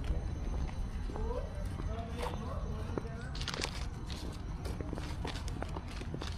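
Horse hooves clip-clopping at a picnic grove eco-tourism spot in Tagaytay, a run of light, uneven hoof knocks under steady outdoor noise, with a faint voice in the background.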